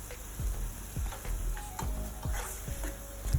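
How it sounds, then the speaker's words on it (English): Vegetable sauce simmers in a covered pot with a steady sizzling hiss, broken by soft irregular pops and ticks from bursting bubbles. "I'm just seeing how it's boiling, like it's simmering."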